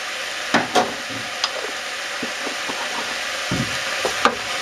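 Mushrooms fry in oil with turmeric in a single pan. A low sizzle runs beneath a few close, scraping knocks as they are stirred.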